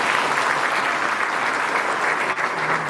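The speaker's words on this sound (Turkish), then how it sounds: "Bir maşallah alkışlayalım." Steady applause from an audience fills the whole stretch, a dense, even wash of many hands clapping at once with no break.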